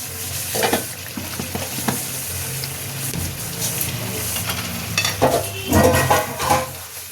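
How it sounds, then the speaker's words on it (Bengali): Chillies fry in oil for a spicy red chicken curry, giving a continuous sizzle with a spoon stirring and scraping the pan in irregular bursts, louder toward the end. "লঙ্কা কটা দিয়ে দিলাম।"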